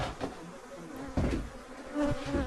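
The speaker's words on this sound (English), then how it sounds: "these are remnant bees. You know, every time we open the door, one fly out." Killer bees buzz around a shed, their droning hum rising and falling as individual insects fly past near and loud against a steady background.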